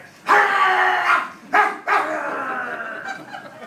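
An old dog barks in a few loud, close bursts, the first long and harsh, followed by a short yelp and another drawn-out bark, with no other sound around it.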